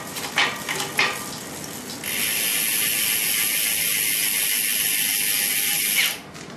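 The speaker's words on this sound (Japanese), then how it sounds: "アウター2速、インナー10速に入った瞬間に DI2 の制御システムが起動する。" A Shimano Dura-Ace Di2 electronic groupset shifts gears on a Bianchi Oltre XR4 road bike. Several close clicks and ticks of the mechanism come first, then a steady whirring, ratcheting buzz runs for about four seconds before stopping abruptly.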